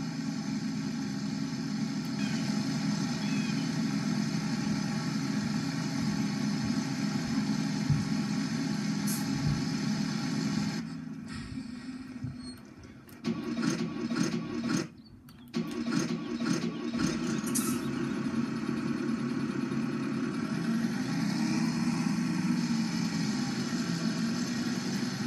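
A Ford 8340 tractor engine running in Farming Simulator 17 during hay work with a Krone implement, a steady mid-pitched drone with a brief dip and rattly changes in the middle before the idle resumes.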